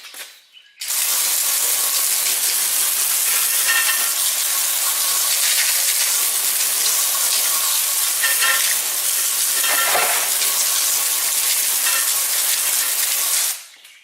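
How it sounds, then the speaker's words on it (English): A close, continuous hiss of water sprays down a car wheel for about thirteen seconds, loud and steady with small surges, then cuts off abruptly, with no one talking. "we're going to go ahead and spray the wheel down with water"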